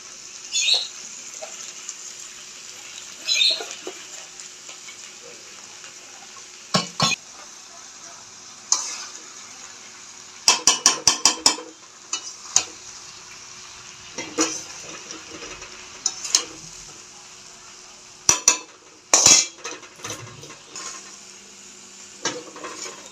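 Rice is stirred in a pot of vegetable pulao with sugar and garam masala, giving a low, steady sizzle punctuated by sharp, irregular scrapes and clanks of a spoon against the pot.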